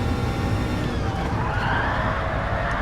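Tyres skidding and sliding under braking in a sim racing game, a loud continuous scrubbing roar over engine noise that holds steady throughout.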